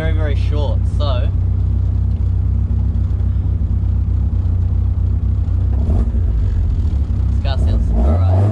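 A Toyota AE86 Trueno powered by a BEAMS 3S-GE engine rumbles loudly and steadily up close, engine note rising under throttle, with someone talking briefly at the start and end.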